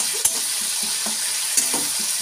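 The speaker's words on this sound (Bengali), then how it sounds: "এবার আদাটা একটু কষে নেব।" Ginger, green chilli paste and tomato fry in a kadai, a dense steady sizzle close by with a few sharp scrapes of stirring.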